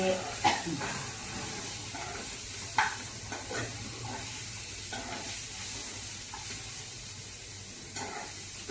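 Onions frying in a pan for a South Indian egg curry, a steady close sizzle with occasional stirring clicks and scrapes, while a person speaks quietly.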